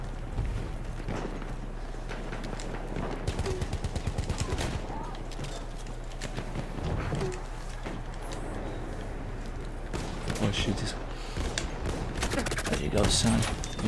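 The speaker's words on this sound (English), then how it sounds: "the shotgun is too powerful at this range" Shotgun fire in Battlefield 1 multiplayer, with repeated loud booming blasts spread irregularly across a busy battlefield of other gunfire, footsteps and game noise, and occasional voices talking.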